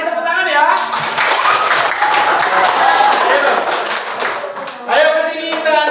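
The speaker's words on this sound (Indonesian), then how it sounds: "Kita kasih tepuk tangan ya." Applause from a group of children and adults in a classroom for a student who is about to sing, steady dense clapping for several seconds, with voices and chatter at the start and end.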